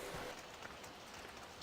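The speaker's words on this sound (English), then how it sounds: "Rainy day." Rain falls on a farm in a continuous, quiet patter of drops on surfaces, a steady low hiss with no talking.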